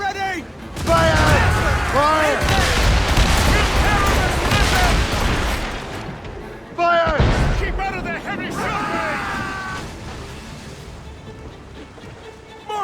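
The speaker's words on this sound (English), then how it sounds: "Cannon" Cannon fire in an Assassin's Creed Rogue naval ship battle, heavy booming volleys amid shouting crew and ship commotion, loud and close.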